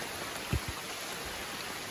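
Afternoon rain falls steadily in a green Sundanese village on an uphill road in Garut, West Java, a soft even hiss with a couple of brief low thumps near the start.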